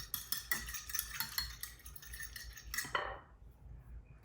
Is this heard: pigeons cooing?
no